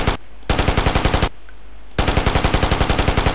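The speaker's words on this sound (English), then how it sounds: "Press the fire key to fire the machine gun." A fixed machine gun on a video game training range fires two rapid sustained bursts, loud and close, separated by a short pause with only a low hum.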